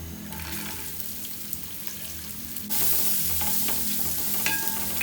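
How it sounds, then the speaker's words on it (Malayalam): Onions sizzling and frying in hot oil with garlic and ginger for a fish-head curry, a steady crackling hiss that jumps louder partway through as more goes into the pan, with occasional stirring scrapes. "ഇനി ഈ സവാളയും കൂടി ഇതിൽ കിടന്നിട്ട് നല്ലൊന്ന് മൂത്ത് വരണം"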